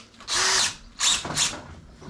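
A cordless drill with an uncharged battery whirs in two short bursts, the second stuttering and slowing, loud and close with no talk.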